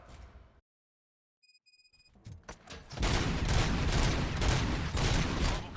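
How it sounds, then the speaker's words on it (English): Gunfire from the video game RoboCop: Rogue City begins after a brief silence and a few clinking electronic tones, then a dense, loud, sustained fusillade of shots continues to the end. "Gunshots? What's going on?"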